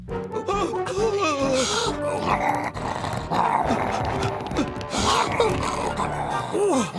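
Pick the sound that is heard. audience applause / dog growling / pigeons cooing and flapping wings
dog growling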